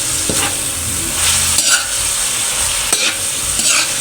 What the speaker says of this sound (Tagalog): Halo-haloy natin para maluto rin po yung hotdog.